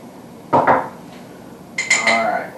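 A spoon clinks against a bowl twice while stirring an olive oil and ginger ale basting sauce, two short bright scraping knocks separated by a pause.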